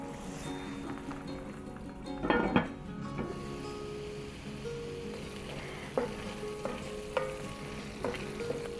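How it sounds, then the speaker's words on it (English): Spices and tomatoes cook down in a pan for an Assamese fish curry, a soft continuous sizzle with occasional stirring scrapes and light spoon clinks, one louder clatter early on. "I'm gonna let this simmer for another 5 minutes, let the spices cook"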